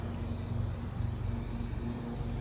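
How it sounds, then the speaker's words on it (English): A steady, continuous aerosol hairspray hisses close by onto a person's hair for the whole stretch, broadband and unbroken, with a low hum underneath. "We're going to spray her hair"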